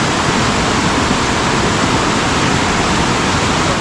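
Rushing stream water after heavy rain in a mountain area, a loud, constant broadband roar of flowing water that stays even throughout with no voices.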